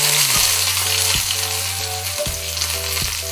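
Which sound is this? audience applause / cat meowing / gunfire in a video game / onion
onion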